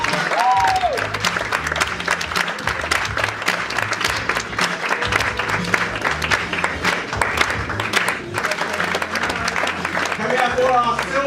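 An audience at a UK product launch event bursts into sustained, steady applause for the bronze builders, a dense crowd of clapping hands filling the whole stretch with a few voices and music-like tones poking through.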